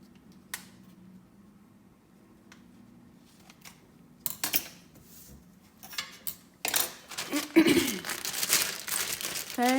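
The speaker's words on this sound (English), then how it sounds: "we're going to take the other piping bag that we had and we're going to cut the tip off" Scissors snipping through the tip of a plastic piping bag, with crinkling plastic handled near the microphone after a quiet stretch, a few close sharp cuts and rustles.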